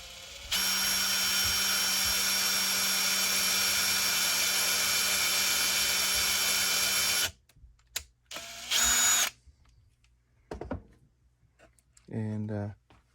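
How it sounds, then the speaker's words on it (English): A power drill fitted with a unibit step bit bores into plastic, a loud steady whine for about seven seconds, then a few short bursts and handling clicks afterward. "So I'm just going to use one of these unibits, because they drill nicely into plastic without splintering or smashing out."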